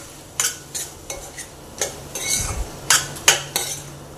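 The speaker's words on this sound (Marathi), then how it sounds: "आता आपण ह्यात मशरूमचे तुकडे जे आहेत ते टाकून घेऊया आणि त्यांना पूर्ण हलवून घेऊया" Mushroom pieces tumble into a pan of cooked tomato masala and get stirred, with a series of sharp spoon-on-metal clinks and scrapes spaced through the moment and a faint sizzle underneath.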